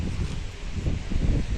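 Cold morning wind blows through trees outdoors, a steady, close rushing and rustling with gusty swells and microphone buffeting throughout.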